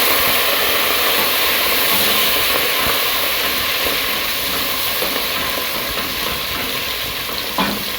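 A condiment mixture sizzles hard in very hot oil, a loud, continuous crackling hiss that carries on steadily with faint stirring scrapes and no voices.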